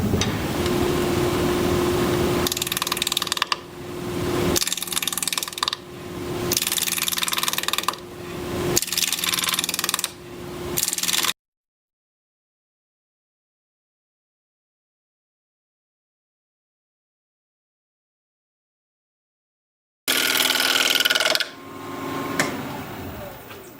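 A sharpened bowl gouge cuts a bark-on wood bowl spinning on a lathe at 1200 RPM, making loud, close scraping and rasping bursts that stop and restart several times, then a long silence before cutting resumes.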